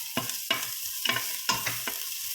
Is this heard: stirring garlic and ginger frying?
yes